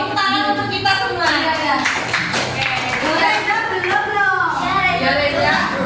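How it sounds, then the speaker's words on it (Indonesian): Students in a microteaching classroom clap for everyone in the class, scattered hand claps mixed with lively voices talking over them. "tepuk tangan untuk kita semua"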